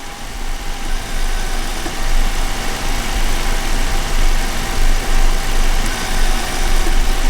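A replacement brake booster pump motor running on a Toyota Land Cruiser, a steady mechanical hum with a low, droning vibration close to the vehicle. The sound stays continuous and fairly loud throughout, with no speech.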